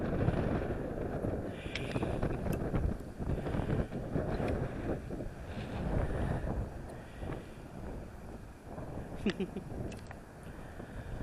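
Strong wind blows outdoors at a cold campsite, a loud, steady roar buffeting the microphone with gusty rumble throughout, no clear talking.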